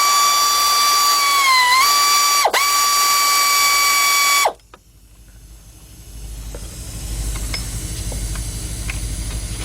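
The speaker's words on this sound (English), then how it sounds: "let's get these three bolts out" A ratchet backs out bolts on a 2003 Jeep Liberty Sport's 3.7 engine during a partial rebuild: a loud, steady mechanical whir for about four seconds, then stopping, followed by quieter scattered ticks and a low background rumble.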